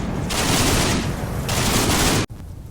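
Dense machine gun and artillery fire from the wargame Combat Mission: Red Thunder, aimed at an 85mm anti-aircraft gun, in a loud, sustained burst of rapid shots that cuts off abruptly before quieter rumbling continues.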